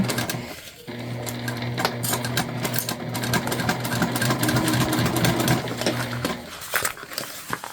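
Sewing machine stitching a fabric shoulder bag, one long steady run of rapid mechanical whirring close by, starting and stopping abruptly.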